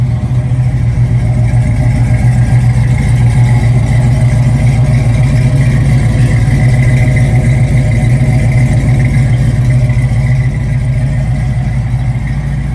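A 1967 Ford Mustang Bullitt idles close and loud with a deep, steady rumble and a faint mechanical clatter throughout, with no voices over it.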